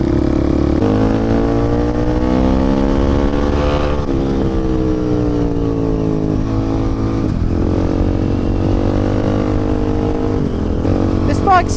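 A 2019 KTM 690 motorcycle rides fast along a road, its engine loud and close, revving up through several gears with rising and falling pitch and shifts, wind noise throughout.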